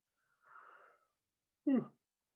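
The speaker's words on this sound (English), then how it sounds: "Excuse me for my yawn." A person yawns: a breathy, drawn-out inhale followed by a short, voiced, falling groan on the exhale, close and fairly quiet.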